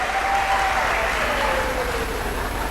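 A seated crowd at an annual research meeting claps steadily and loudly for a couple of seconds, a thick wash of hands with faint murmuring from the room underneath.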